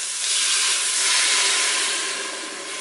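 Pressure cooker hissing as beef bourguignon cooks over medium heat, a loud, steady rush of escaping steam with no pauses.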